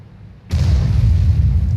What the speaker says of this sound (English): Artillery nearly misses him